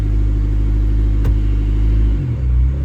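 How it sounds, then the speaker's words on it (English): A Mazda 5 engine idling with an exhaust leak, giving a loud, steady, close rumbling drone with a deep throb that shifts slightly in pitch toward the end. "I love that exhaust leak."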